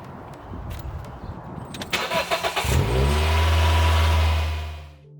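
A race car engine, just topped up with 5W40 oil, cranks with a quick series of starter chugs, then catches and revs up into a loud, steady, close roar that holds for a couple of seconds before dropping away.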